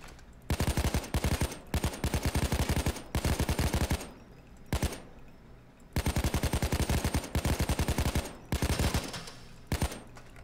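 Gunfire in the Payday 2 video game comes in rapid automatic bursts. Dense volleys of shots are separated by short pauses, loud and close, with no talking.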